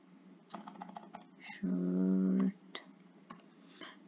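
Faint clicks of typing on a computer keyboard, a few scattered keystrokes with a steady low hum partly covering them for a moment.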